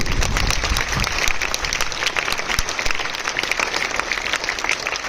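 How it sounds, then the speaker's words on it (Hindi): Dense, steady applause from a school audience at a D.A.V. Public School achievement event, many hands clapping at once for the full stretch without letting up. "तो आप तालियों से इनका स्वागत करें."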